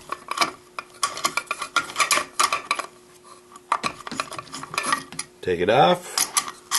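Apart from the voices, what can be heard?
1/2-inch nut driver removing brass catcher mount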